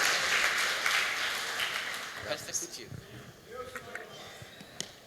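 A church congregation applauds loudly at first, then the clapping fades out as a voice begins speaking over the thinning sound.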